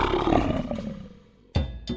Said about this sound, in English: The lion's roar is the most famous and can be heard up to 5 miles away